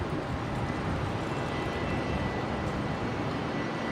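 A Singapore Airlines A350-900 taxiing toward runway 01 left at Brisbane International Airport, its engines a constant, even wash of rumble and hiss, steady and moderately near with no one speaking.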